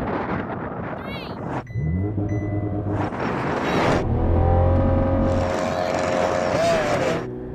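Race cars set off at the start of a race, engines rising and falling in loud overlapping revs with some wheelspin, close by, and a voice talking over them.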